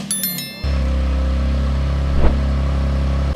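Infiniti Q50 twin-turbo engine, just rebuilt, cranking and catching, then settling into a loud steady idle with a slight rise partway through; no voices over it.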